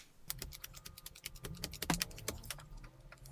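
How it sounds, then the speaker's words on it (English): Board game hieroglyph tiles are shuffled by hand, giving a dense run of close clicking and clattering taps that rise to a louder scrape in the middle, with no talking. "I'll just give these a shuffle with the remaining hieroglyph tiles and I'll deal out the remaining 12."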